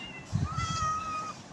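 A cat in a Minecraft-style video game gives a single drawn-out meow, clear and close over quiet background, lasting about a second.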